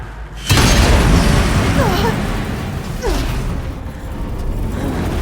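A bomb explodes in the video game Horizon Zero Dawn: The Frozen Wilds. A sudden loud, close boom is followed by a sustained rumbling roar with faint whooshing sweeps trailing off over several seconds.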